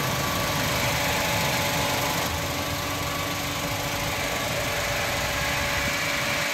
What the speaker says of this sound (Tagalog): Ito ang kanyang engine mga boss.